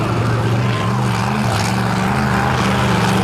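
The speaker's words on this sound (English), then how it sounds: "Both of these guys running those 540 cubic inch Chevrolet power plants in the back of these Super Duty Fords." Monster trucks with 540 cubic inch Chevrolet engines in Super Duty Ford bodies racing on a beach, a loud, steady, continuous engine roar with a sustained droning growl and no pauses.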